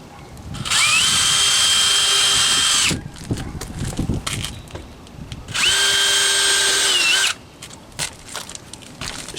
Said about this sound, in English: can drill a pilot hole and then get a finishing nail in there to hold that in place